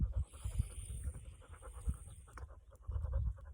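A dog pants heavily in quick, rhythmic breaths, fairly faint and continuous, with low thumps and room noise around it during a home yoga lunge session.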